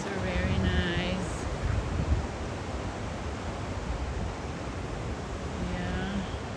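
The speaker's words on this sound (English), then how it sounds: "I love to hear the sound of the waves." Surf washing onto a breezy beach under heavy wind buffeting the microphone, a broad steady rush with a few brief tonal squeaks, with speech faintly present.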